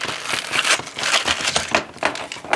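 Crinkly plastic packaging around heavy-duty plumber's tape for a fuel transfer pump kit, handled up close in irregular loud bursts of crackling and crumpling with no voice.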